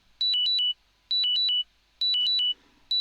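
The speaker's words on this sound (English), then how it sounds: "So this is the low blood glucose alarm." A FreeStyle Libre app low blood glucose alarm plays bursts of quick two-tone beeps, repeating roughly once a second, clear and close with nothing else in between.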